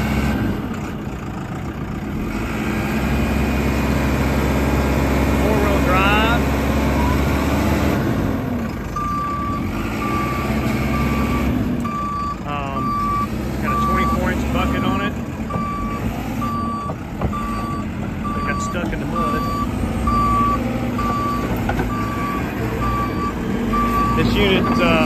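A county-owned 2016 JCB 3CX 15 backhoe loader with a 4-in-1 bucket runs steadily with a loud, low diesel rumble, while a repeating reverse alarm beeps evenly through the second half, and voices murmur faintly over the engine.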